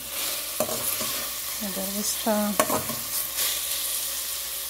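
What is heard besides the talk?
garlic clove and ground beef frying in a pan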